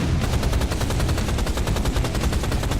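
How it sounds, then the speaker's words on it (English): Rapid repeated gunfire bursts from an enemy with a rocket launcher in the video game Rise of the Triad, a fast, even stream of loud shots lasting the whole moment. "And he also has a rocket launcher."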